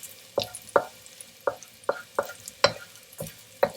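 Pan of oil with food being stirred while frying for a paella, a series of about nine sharp scraping knocks at a loose rhythm, close and fairly loud over a quiet background.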